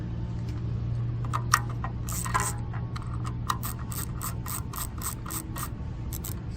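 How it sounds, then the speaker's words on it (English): Six Torx screws being unscrewed from the side cover of a T1X2 for track adjustment, giving a run of close, sharp ratcheting clicks and light scraping taps over a steady low hum. "we're going to have to take off these 6 screws, and they're Torx screws"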